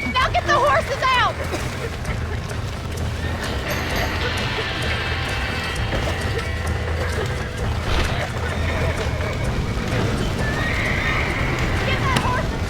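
Horses in the Red Dead Redemption video game whinny loudly and near at the start, then hooves clatter in a steady galloping rhythm under shouted voices, with creaking and rushing noise throughout.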